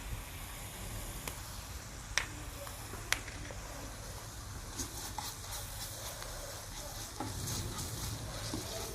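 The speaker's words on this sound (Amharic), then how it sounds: "በዘይት ሽንኩርቱን ጥብስ እናደርገዋለን።" Onions and garlic frying in oil for shiro with cabbage: a quiet, steady sizzle with a few sharp clicks and scrapes from stirring.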